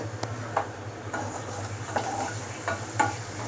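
Oil sizzling faintly in a pan while noodles are cooked as an evening snack, a low steady hiss broken by a few sharp clinks and scrapes of a utensil against the pan, close and quiet with no talk.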